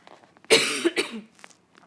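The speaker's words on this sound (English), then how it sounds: "excuse me while I cough." A single harsh cough bursts out, close and loud, followed by a shorter second cough and a few faint small sounds trailing into quiet.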